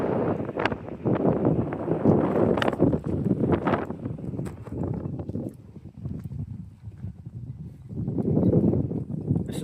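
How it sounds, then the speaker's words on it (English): Wind buffeting a microphone outdoors at Purgatory Creek Park, heavy gusty rumbling that rises and falls in bursts, with a few sharp knocks and crackles along the way. "Too windy."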